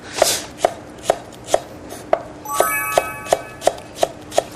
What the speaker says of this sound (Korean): 제가 이렇게 저을 동안에 대파를 좀 썰어주시겠어요?